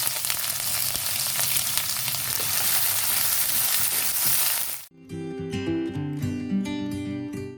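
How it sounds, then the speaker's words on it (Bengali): Chopped onions fry loudly in oil for several seconds with a dense, constant sizzle, then the sizzle cuts off abruptly and music takes over. "পেঁয়াজগুলো ভাজা হয়ে গেছে"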